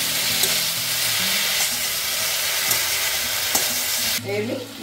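Water poured into a frying potato and drumstick curry with turmeric and poppy seed, a loud, close, hissing sizzle that holds steady and then drops off near the end, with no talking.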